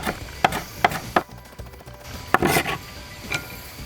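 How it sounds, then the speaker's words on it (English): A knife chopping carrots into strips on a cutting board, with several crisp, evenly spaced knocks, a short pause, then a few more close, clear cuts. "What I'm going to do, I'm just going to cut it in half and then strips this way."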